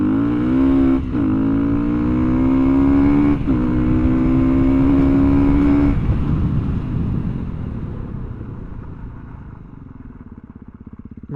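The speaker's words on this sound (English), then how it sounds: "All right, let's see how powerful this little bike is. Let's do some 0 to 60 runs," A big bore Honda CRF300L dual-sport motorcycle accelerating hard from a standstill toward 60, its single-cylinder engine rising in pitch through a few quick gear changes, then holding a steady drone that gradually fades as wind noise builds.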